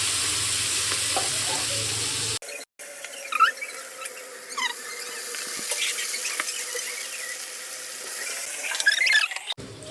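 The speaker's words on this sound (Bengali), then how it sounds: "এর জন্য একটু তেল দিয়ে দিচ্ছি, তেজপাতা, একটু বেশ খানিকটা টমেটো" Tomatoes and bay leaf fry in hot oil while cauliflower-potato curry gets started, giving a steady close sizzle with a few brief squeals and stirring clinks, a short break near the start, no talking.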